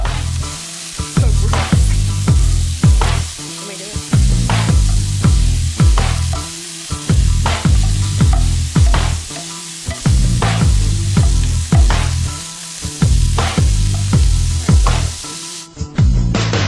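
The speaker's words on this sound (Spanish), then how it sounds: "Empieza el fuego. Cocine el carne de res." Ground beef for empanadas fries loudly in a pan, a constant sizzle broken by rhythmic scraping strokes of a utensil stirring the meat, close and without talk.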